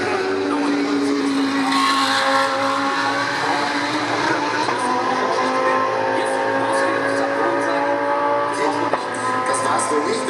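ADAC GT Masters race cars in Saturday qualifying at Hockenheimring, 2019, keep up a loud, continuous engine drone with rising and falling pitch as several cars pass. There is no talk over it.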